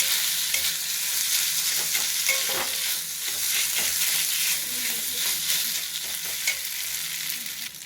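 Grated boiled potato stirred in a hot frying pan for mini singara filling, giving a continuous loud sizzle with close scraping and shuffling strokes throughout.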